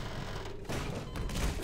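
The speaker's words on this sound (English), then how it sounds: "some sort of floor explosion" An explosion in the Garry's Mod video game goes off in the floor, a loud, dense burst of rumbling blasts and thuds that carries on through the moment with no talk.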